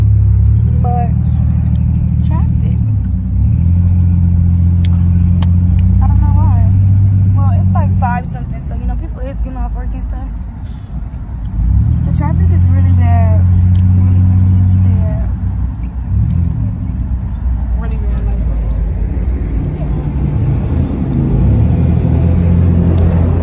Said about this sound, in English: it's so much freaking traffic